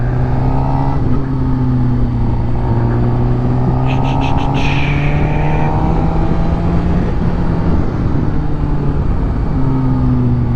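A motorcycle engine drones loud and close, its pitch wavering as it rides steadily, with a brief high chirp partway through.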